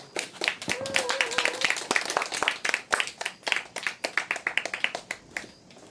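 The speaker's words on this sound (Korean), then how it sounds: "힘찬 박수로 맞이해주시기 바랍니다." A crowd of residents at an outdoor gathering against a pumped-storage power plant in Pungcheon-ri claps to welcome a speaker, a lively patter of many hands with voices calling over it, thinning out and fading near the end.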